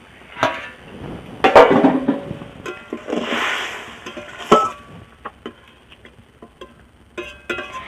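Metal pot lid lifted off simmering potato and fish curry in a home kitchen, with several clinks and clanks, scattered light taps and a brief steamy hiss, no voices.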